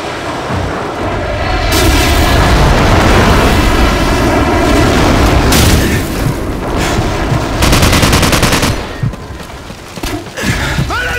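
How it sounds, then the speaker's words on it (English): A Call of Duty 4 airstrike on the Bog map, heavy bombs thundering in a loud continuous barrage of booms and rumbling blasts mixed with gunfire crackle, then easing to scattered shots near the end. "airstrike on the way!"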